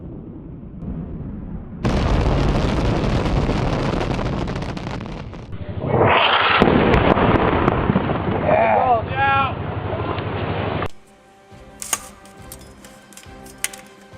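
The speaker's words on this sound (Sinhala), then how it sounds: "ගල්ෆ් කලාපයේ මෙහෙයුම්වලදී B2 බෝම්බ හෙලන දුර්ලභ අවස්ථාවකුයි මේ ඔබ දකින්නේ" A steady roar gives way to a loud, sustained rumbling blast with deep low-end booms from bombs dropped by a B-2 stealth bomber, then cuts off abruptly to quieter noise.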